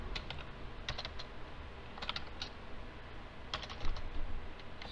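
Someone types on a computer keyboard in a quick, uneven run of close key clicks with brief pauses between bursts. No one speaks.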